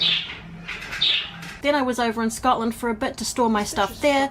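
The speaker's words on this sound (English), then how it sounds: "You can hear the birds in the background." Soft coos and chirps of pet birds sound indoors at first, then continue faintly in the background beneath someone talking.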